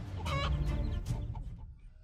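Hens clucking and squawking in a burst of agitated calls as an eagle dives at a mother hen, close and fairly loud, with a low rumbling background underneath.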